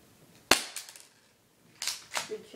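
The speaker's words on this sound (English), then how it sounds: "We'll be taking 3 shots with this too." BB pistol firing two sharp, cracking shots, the first at about half a second and the second near the two-second mark, each followed by a brief rattling tail in otherwise quiet surroundings.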